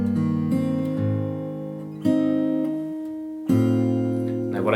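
Fingerstyle acoustic guitar plays a passage, slow sustained chords and melody notes ringing warmly up close, with three distinct strummed changes spaced about a second or two apart.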